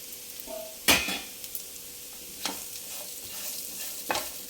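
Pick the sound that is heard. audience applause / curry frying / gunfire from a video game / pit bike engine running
curry frying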